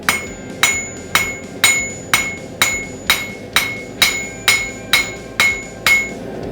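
Hammer tapping a metal hook into place, twelve sharp ringing strikes at an even, unhurried pace, each close, bright and decaying quickly with a faint metallic ring, no voices.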